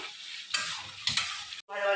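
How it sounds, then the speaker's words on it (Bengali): Food frying in a pan with spices, a close sizzle broken by scraping stirs that come in short bursts, with a brief drop out before the sizzle resumes. "এটাই ভাজা ভাজাই যা করবো এর মধ্যে সব মশলা দিয়ে দেবো ভালো করে ভাজা ভাজা করবো"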